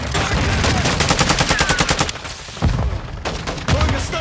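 A rapid string of loud gunshots in Call of Duty: Modern Warfare II, a rhythmic automatic burst followed by a few heavier single blasts and thumps, with faint background voices.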